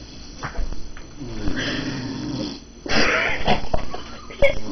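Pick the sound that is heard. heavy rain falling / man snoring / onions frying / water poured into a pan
man snoring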